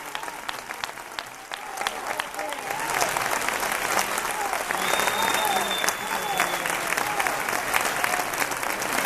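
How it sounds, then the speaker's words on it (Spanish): Audience applause following a flamenco song, a broad, sustained wash of clapping that swells louder after a couple of seconds, with crowd voices and a bright whistle-like tone mixed in. "Que continúe el aplauso."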